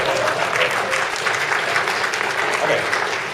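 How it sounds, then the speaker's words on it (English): A group bursts into applause, a steady patter of many hands clapping at moderate loudness for a few seconds, with a voice briefly heard over it. "That deserves a clap."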